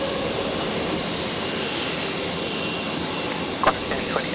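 A Qantas Boeing 787 Dreamliner jet departing Brisbane airport, its engines a steady, broad roar held at a fairly constant level throughout, with a brief sharper sound near the end.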